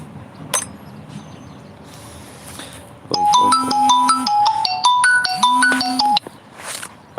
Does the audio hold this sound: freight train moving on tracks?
no